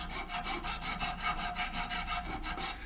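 Rust being scraped off a brake caliper bracket, a close, loud rhythmic rasping with about a dozen even back-and-forth strokes, no talking.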